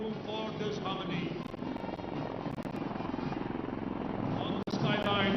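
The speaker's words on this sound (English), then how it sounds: "On the skyline, helicopters of 603 Independent Aviation Brigade are approaching the saluting lines." Army helicopters of an aviation brigade fly past during an Army Day parade in Bengaluru, a steady, loud rotor drone lasting throughout with a brief dropout near the end.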